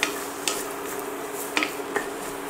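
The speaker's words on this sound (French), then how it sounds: "Je remue." Carrots being stirred in a pan, a few distinct scraping strokes of the utensil against the pan over a soft background hiss, close and moderately quiet.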